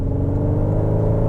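Synthetic engine sound from a CUPRA Terramar America's Cup Edition with a 2.0 TSI 265PS engine, accelerating in CUPRA mode: a steady, loud, droning hum with layered tones, rising slightly throughout, with no talking.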